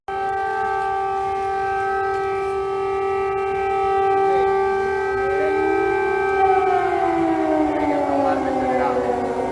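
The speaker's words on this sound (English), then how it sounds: "An air raid siren. Several of them going off here in the center of the Ukrainian capital." Several air raid sirens wail together across central Kyiv, the Ukrainian capital, layered sustained tones holding steady and then sliding downward as they wind down, loud and continuous with no talking over them.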